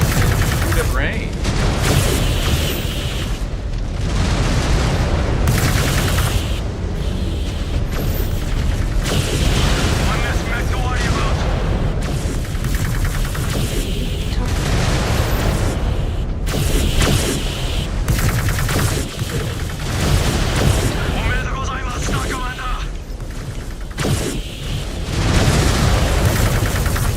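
Mech weapons in the MechWarrior 5 Clans video game fire at range in loud, sustained volleys and booming impacts over a dense, continuous battle din that hardly lets up, with a voice speaking now and then.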